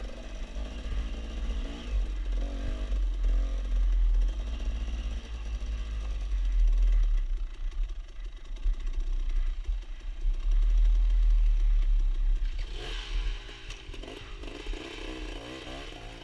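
Loud, steady dirt bike engine drone while riding a high mountain trail over a divide, with throttle rising and falling, rough rumble and wind buffeting throughout.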